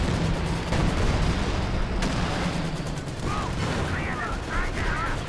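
Dense battle noise from the video game Company of Heroes 2, with rolling artillery booms and crackling gunfire blending into a loud, continuous din and occasional sharper reports standing out.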